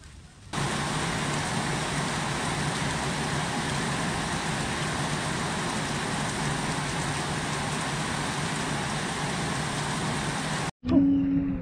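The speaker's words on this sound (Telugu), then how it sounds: "సో మళ్ళీ వర్షం మొదలైంది" Rain falls steadily and evenly for about ten seconds on a family camping trip, a constant wash of sound with no talk, cut off abruptly near the end.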